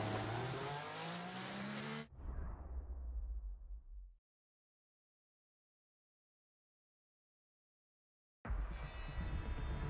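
Formula 1 racing car engines in the F1 2014 video game on the Australia track, a loud engine roar that cuts off, falls to silence for a few seconds, then returns abruptly.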